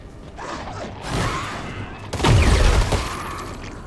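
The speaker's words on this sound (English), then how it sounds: "we just saw that explosion when I got that head hit" An explosion goes off in the dark, fast roguelite Armatus, a sudden loud crashing burst after quieter clattering game effects, with faint talking in the background.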